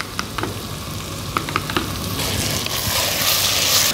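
Mutton fries hard in a pan, a loud, continuous sizzle broken by a few sharp scraping stirs early on, the hiss swelling louder toward the end.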